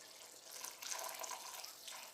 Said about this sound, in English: Now I will add half a cup of water to this.